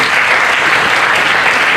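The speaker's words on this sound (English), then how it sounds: "please, another round of applause." Loud, steady applause from a summit audience fills the moment, a dense continuous wash of clapping with no gaps, at a microfinance and fintech risk and compliance summit.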